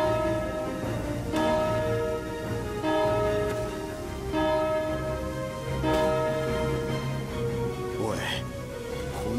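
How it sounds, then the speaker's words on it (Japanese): A bell in the video game Valkyria Chronicles 4 tolls repeatedly with long ringing decays, a loud, evenly spaced series of resonant strikes that fills the whole stretch. "鐘を5回鳴らしてくれ。"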